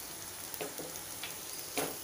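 Ginger garlic paste frying with chopped onions in a hot pan, a steady low sizzle with a few brief bursts of crackle as it is stirred, no voices.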